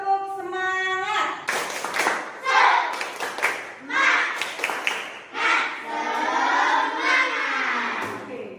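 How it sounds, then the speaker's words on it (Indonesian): A school class does a tepuk semangat chant before a maths lesson, with children's voices chanting in rhythm while sharp, patterned hand claps punctuate the chant in bursts. "supaya menambah rasa semangat kita tepuk semangat dulu ya"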